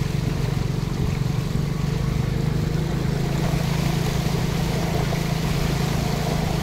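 Motorcycle wading slowly through a flooded street after heavy overnight rain, with a steady low engine drone and continuous water sloshing and churning close by, no talking.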